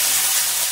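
Pork kasim hits hot oil with sautéed garlic, onion and tomato in a sinigang pot, giving a steady, loud, close sizzle and hiss that fills the brief moment with no talking.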